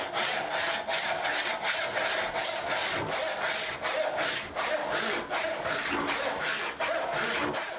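A hand saw cuts through wood in steady rhythmic strokes, each push and pull giving a rasping scrape, about two strokes per second, close and alone.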